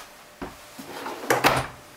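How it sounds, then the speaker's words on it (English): A pots-and-pans drawer slides open in the kitchen of a 2019 Venture SportTrek 271VMB travel trailer, with a soft thud and then a louder rolling clatter of the drawer runners, close by with no talk. "Pots and pans drawer."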